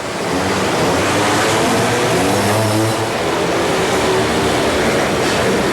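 Quad and motorbike race engines roar at the Orange County Fair Speedway Thunderdome, a dense, loud, continuous wall of engine noise from a close pack with no pauses.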